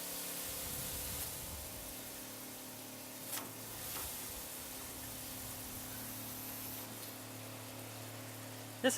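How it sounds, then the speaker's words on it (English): Agricultural sprayer nozzle releasing spray at a field day, a faint, steady hissing spray that runs throughout with a brief louder burst near the end. "This is a fine spray, a coarse spray. I mean, a very coarse spray, and an extremely coarse spray."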